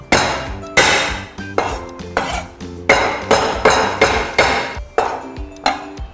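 Four garlic cloves smashed against a board for a Hakka stuffed tofu filling, a series of about nine sharp, loud knocks in an uneven rhythm, each ringing briefly before the next, close up with no talking.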